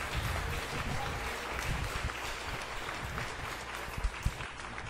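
A church congregation claps together to welcome a pastor, a steady, fairly faint patter of many hands filling the space, with a couple of sharper claps near the end.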